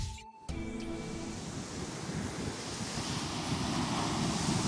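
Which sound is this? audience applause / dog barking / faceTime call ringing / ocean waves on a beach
ocean waves on a beach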